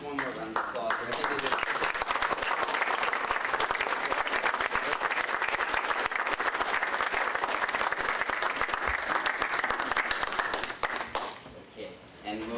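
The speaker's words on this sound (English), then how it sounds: "One more round of applause" An audience at a community water-quality meeting breaks into sustained, even applause, many hands clapping for over ten seconds before it fades and a voice begins speaking.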